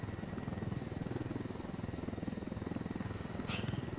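A video game helicopter's rotor thumps in a steady, rapid rhythm throughout, a constant chopping drone at moderate distance.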